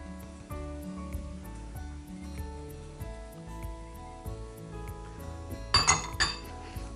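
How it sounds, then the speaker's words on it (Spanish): Utensils clink and scrape against a bowl while liquids such as coconut sugar and olive oil are mixed for a whole-grain cake, a steady rhythmic clatter with a louder burst of clinking near the end. "Vamos a mezclar los líquidos"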